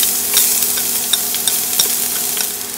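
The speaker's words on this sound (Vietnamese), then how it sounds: "Cho góc hành và tỏi băm vào phi thơm." Chopped shallots and minced garlic frying in hot oil for soup, a close, steady crackling sizzle with small pops and stirring throughout.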